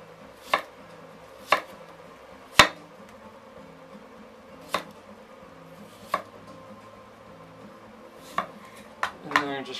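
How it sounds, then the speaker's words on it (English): A knife chopping vegetables on a board for turkey ceviche: about eight to ten sharp, close taps at an uneven, unhurried pace, with a quick cluster of cuts at the end and no talk. "And then I'm just going to gently chop them up."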